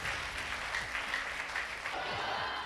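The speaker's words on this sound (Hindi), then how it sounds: "एक बार जोरदार तालियां परमेश्वर की महिमा के लिए बजाएंगे।" Worshippers at a Hindi-language Christian prayer meeting clapping loudly and steadily in praise, a dense, continuous burst of applause throughout with no talking.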